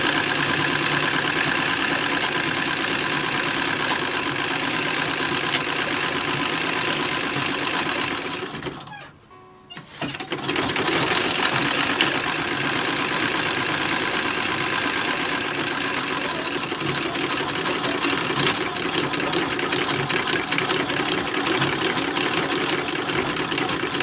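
A sewing machine whirs steadily while hemming a 1930s Hooverette dress. The run stops briefly partway through, then resumes and carries on evenly to the end.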